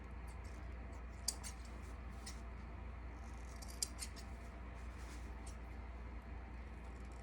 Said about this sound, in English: So I'm just going to cut the corner off